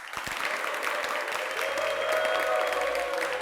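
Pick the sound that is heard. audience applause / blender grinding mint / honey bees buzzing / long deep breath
audience applause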